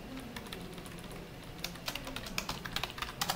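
Computer keyboard typed on at a desk during a coding session, soft quick key clicks over a steady background hum, growing denser and louder toward the end and finished with firmer keystrokes such as Enter.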